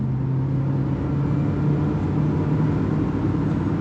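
Steady engine drone from inside a DFSK Glory i-Auto car held near 5000 rpm around a gear change on a mountain drive, a continuous loud hum with a sustained low tone and no talk.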